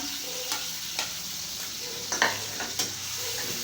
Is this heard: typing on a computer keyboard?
no